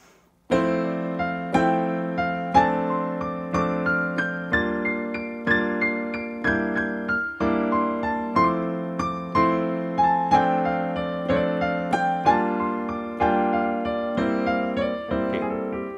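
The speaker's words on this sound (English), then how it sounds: "Okay, this is the sound of triplets." A piano plays a steady run of notes grouped in threes, each beat split into an even triplet, clear and up close with no voices.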